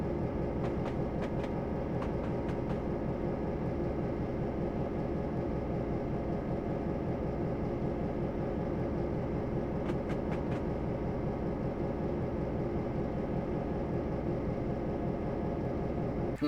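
A Great Northern F7 diesel locomotive hauls the Empire Builder passenger train through Montana near West Glacier, its engine rumbling loud and steady in a continuous drone with a faint rhythmic clatter from the rails.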